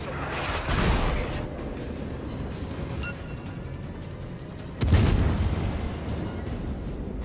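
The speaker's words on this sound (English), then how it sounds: "Concentrate fire on that enemy warship." Warship naval guns firing at an enemy ship in World of Warships: two heavy booming salvos, the second louder and sharper, over a steady low rumble of sea and engine noise.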